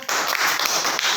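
Students in an 8th-grade classroom clapping together, a steady dense patter of applause filling the whole moment without pause.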